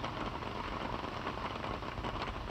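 Steady broadband rain patter fills the recording, a dense continuous hiss of drops with a low rumble underneath, fairly close and even throughout.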